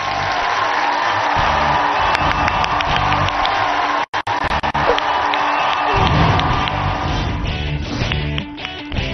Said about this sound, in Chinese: 掌声送给我们的老将，给我们带来第一轮他的展示。